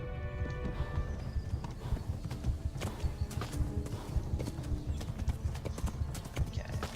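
Horse hooves gallop hard and fast in Kingdom Come: Deliverance, a dense, continuous drumming of hoofbeats up close with rustling and scattered clatter, no talking over it.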